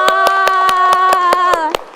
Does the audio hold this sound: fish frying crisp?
no